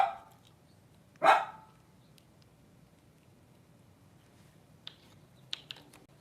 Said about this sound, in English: Penny's barking it up.